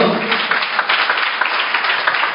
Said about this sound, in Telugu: ఆయన కొడదామా చప్పట్లు